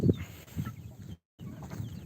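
Chickens cluck in a backyard coop, with a few low, close clucks over a quiet background and a brief gap of silence partway through.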